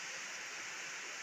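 Strong floodwater from Typhoon Kristine rushes in a constant broadband roar, a faint, unbroken wash with no pauses.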